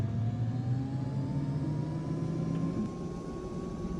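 Jet engines of a CRJ 200 airliner in the X-Plane 11 flight simulator hum and whine steadily, a continuous drone with a slowly rising tone, with no voices over it.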